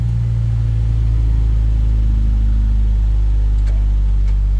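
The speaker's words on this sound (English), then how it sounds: "at least I got the car running" A car engine, just brought back to life after a no-start problem, runs steadily at close range in a loud, continuous low rumble without clear revving.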